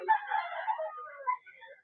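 A single 10-month-old hen-feathered gamecock crows loudly nearby at a backyard fowl seller, its call rising and stretching out before trailing away.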